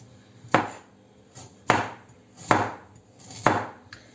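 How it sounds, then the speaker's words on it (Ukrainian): Knife slicing carrots into rounds on a cutting board: four crisp, evenly spaced chops about a second apart, close and clear with no talk. "я буду нарізати моркву кружальцями"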